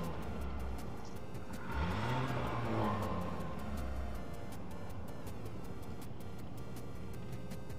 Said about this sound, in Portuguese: O cara tá fazendo uns testes no carro lá